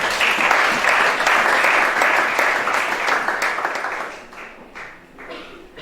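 A church congregation applauding a preacher during a sermon on hell in Gabon, loud, dense clapping that holds steady and then tapers off toward the end.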